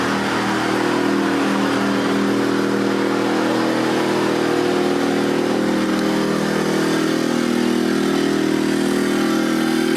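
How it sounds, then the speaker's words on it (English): A camper generator running wide open, a loud, steady engine drone with a constant mid-pitched hum and rough mechanical texture, close and uninterrupted for the whole stretch without any talk. "you can hear the generator is running wide open"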